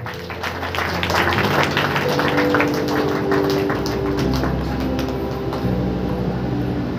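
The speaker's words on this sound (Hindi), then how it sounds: "ताली बजाकर महिमा देंगे।" A congregation at a Sunday church meeting applauds to glorify God: a dense, loud wash of many hands clapping together, continuous throughout, with a low instrumental hum underneath.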